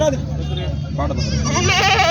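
Goats bleat at an outdoor goat market, heard beneath continuous close-up talk from a man, with a wavering bleat rising toward the end.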